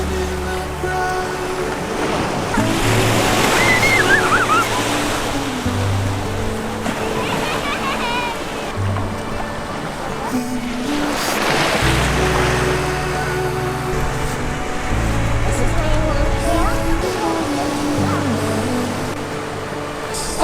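Ocean waves surging and splashing against the rocky Izu Peninsula coast in Shizuoka, Japan, loud and close with repeated rushing swells and a steady wash of water, while people talk and react nearby.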